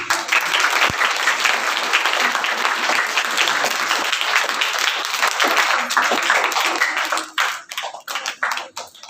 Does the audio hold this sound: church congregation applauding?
yes